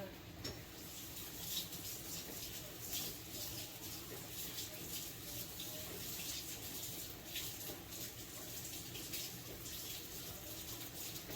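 Steady running tap water as a spoon is rinsed at a kitchen sink, a continuous close splashing flow with faint irregular clinks and a soft voice in the background.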